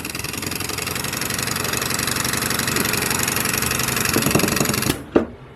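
A model steam engine, leaking air, runs slowly at its lowest speed with a steady, rapid, close mechanical chuffing and knocking, then abruptly stops with a single sharp clunk before falling quiet.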